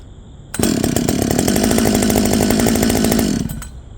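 Jonsered 2258 chainsaw with a modified muffler starts up and runs loud and close for about three seconds, with a fast rattling engine beat, then drops off sharply.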